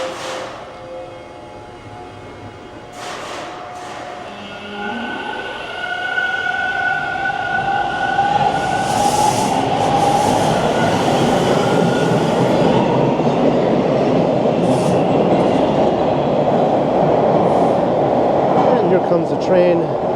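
Westbound Toronto subway train arriving at an outdoor station, a rumbling wheel roar building from quiet and holding loud and steady with metallic rail squeal, a few distant sounds early on.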